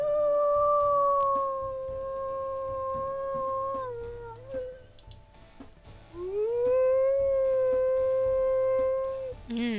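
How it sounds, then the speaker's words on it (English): Wolf howls from the video game WolfQuest: a long, clear, sustained howl that slowly falls in pitch, a short break, then a second howl rising and holding steady, loud and close with no talking. "That is a pretty secondary howl."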